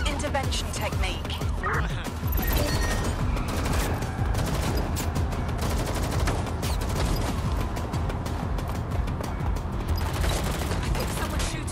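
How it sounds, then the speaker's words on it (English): Gunfire in Watch Dogs: Legion, rapid volleys of shots crackling continuously over mechanical clatter, with voices calling out over the shooting. "I think someone's shooting."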